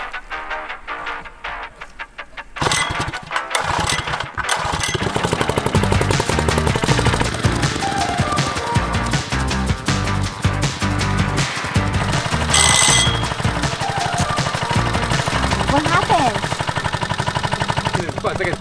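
A gas-powered tamper engine runs loud and close for most of the clip after a short start, its rough, dense racket wavering as it bogs down and floods while preparing ground for a house foundation.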